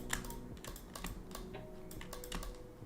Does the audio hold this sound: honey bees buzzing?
no